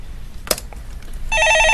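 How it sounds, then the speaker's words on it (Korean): A telephone bell starts ringing near the end, a bright repeating electronic trill, after a brief click, in a quiet studio during a stock market call-in program. "예, 전화 받아보겠습니다."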